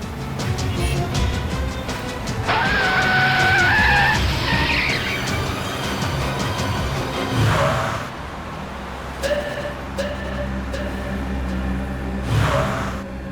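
A car swerves on a road with a long, loud tire squeal, followed by engine and road noise and further skidding bursts under the continuing traffic rumble.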